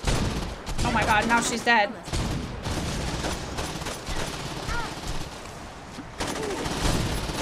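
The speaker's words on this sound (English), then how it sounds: "She seems to just be shooting and that's it." Rapid bursts of gunfire from Shaundi in the Saints Row 2 video game, loud and sustained across the whole stretch, with a person talking briefly over it.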